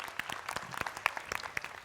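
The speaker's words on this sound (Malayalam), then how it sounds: "ഒരു വലിയ കൈയടി കൊടുക്കാം." Faint, scattered clapping from an audience at an awards show on stage, a thin patter of claps heard from a distance.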